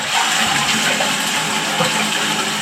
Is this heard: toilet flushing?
yes